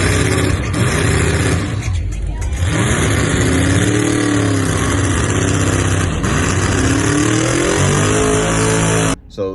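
Car burnout at Michiana Automania, with a loud engine revving and wavering in pitch continuously, harsh and close, cutting out abruptly near the end.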